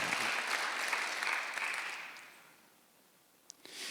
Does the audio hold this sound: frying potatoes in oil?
no